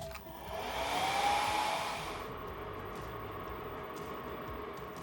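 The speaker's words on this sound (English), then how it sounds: "if we connect the hair dryer, for example, right here, the fan will start to work" A hair dryer powered by a DIY power station blows with a steady, loud whooshing hum, its airflow swelling in the first couple of seconds before settling into an even drone.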